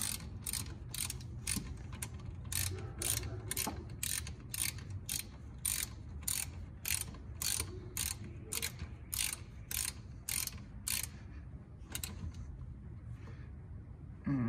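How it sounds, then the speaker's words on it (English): A 12mm wrench ratchets steadily while tightening a brake line on a Nissan 240SX during rear brake caliper work, giving a long run of rapid, regular clicks close up with a pause near the end. "Let's tighten on this brake line."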